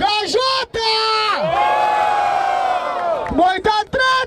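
A crowd at an outdoor rap battle in Barueri yells, whoops and bellows for a rapper, loud sustained roaring voices with short shouted bursts at the start and end.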